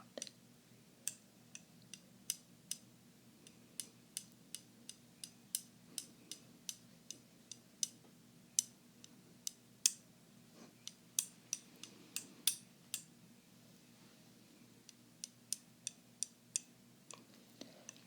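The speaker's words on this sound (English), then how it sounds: "Make a nice little clicking sound." Chopsticks tapped together in a soft, close ASMR setting, giving a long series of sharp, light clicks at an uneven pace over quiet background hiss, with no talking.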